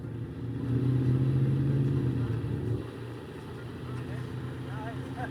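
A motorcycle cruising along a Bay Area highway in A mode, a steady engine drone with wind rush that swells early then settles slightly lower, continuous and close throughout.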